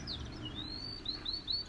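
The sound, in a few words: birds chirping in trees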